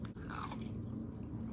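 A close, loud crunch from biting into crispy fried chicken wings, followed by steady chewing with a faint scraping texture, no talking over it.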